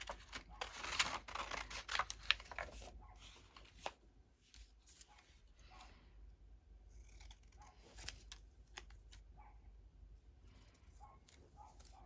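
Scissors snip small pieces of paper for a Christmas junk journal into a basket in quick, light, close cuts with soft paper rustling between them.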